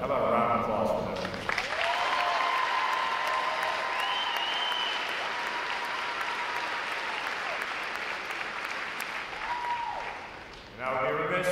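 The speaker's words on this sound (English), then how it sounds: "How about a round of applause for them?" A large crowd at a U.S. Navy recruit training graduation ceremony applauds the flag bearers, sustained dense clapping that fills the space for several seconds before tapering off, with voices briefly audible at the start and end.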